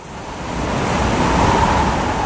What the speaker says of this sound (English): a freezing cold blast of air screeched past and nearly blew the sun along with it